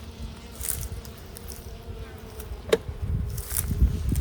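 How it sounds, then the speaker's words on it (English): Many honey bees buzzing in a hive in a steady low drone, close and continuous, with a few soft knocks and rustles mixed in. "just bunches of bees looks to me like"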